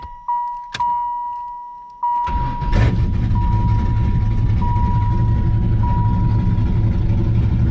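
A cammed LT1 Pontiac Trans Am cranks and fires after a few electronic chimes, then settles into a loud, close, lumpy idle that rumbles on steadily to the end.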